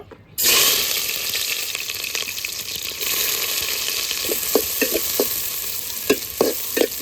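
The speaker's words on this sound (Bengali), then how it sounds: "তেল গরম হয়ে গেছে, এখন কুচনো পেঁয়াজ দিয়ে দেব" Chopped onions hit hot mustard oil with a loud, steady sizzle and crackle that bursts in right away and runs the whole time, with a few soft stirring knocks toward the end.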